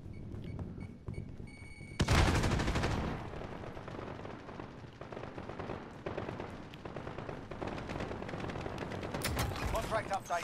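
Rapid automatic gunfire in Call of Duty: Warzone Plunder mode, loud bursts starting after a quiet opening and continuing densely with thuds and impacts, while a player talks over it.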